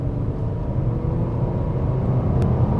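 A 2024 Nissan Murano SV Midnight Edition pulls away from a standstill under throttle, its engine a steady, close, loud rumbling drone that holds throughout with no voices.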